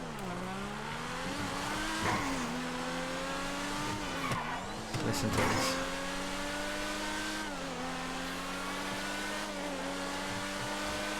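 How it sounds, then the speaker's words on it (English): A McLaren F1 in GTA 5 revs and races, the engine whining loudly through rising and dipping pitch with gear shifts and brief tire squeals, and a voice speaks once. "Decent engine sound though."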